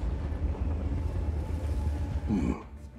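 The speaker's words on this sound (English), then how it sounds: "We're taking the train." A train ride in the video game Just Cause 4, a steady low rumble of rolling carriages carrying on throughout, with a brief voice near the end.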